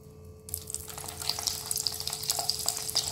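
Batter-coated drumstick flower fritters go into hot oil: after a brief quiet moment, a bright bubbling sizzle erupts and continues with crackling pops, close and moderately loud, with no talk.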